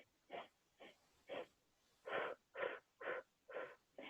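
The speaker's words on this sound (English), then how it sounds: "you breathe in for 4 and use your fingers to guide you. And then you breathe out for 4" Slow, deep breathing exercise paced in and out through the nose and mouth: eight separate soft, airy breaths at a steady rhythm, close and quiet, with brief silences between them.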